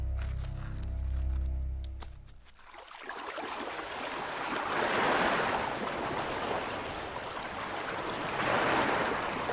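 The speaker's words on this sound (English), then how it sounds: "Nothing looks more tranquil than warm tropical waves lapping over a white sandy shore." Warm tropical waves lap onto a white sandy shore on Zanzibar, rolling in as soft, hissing washes that swell and fade in slow surges.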